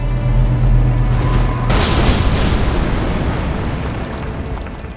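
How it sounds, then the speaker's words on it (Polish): An enemy explodes in Elden Ring Shadow of the Erdtree with a loud, sudden boom that bursts after a low humming lead-in, then rumbles and fades over several seconds. "Chyba uważaj na te wybuchy."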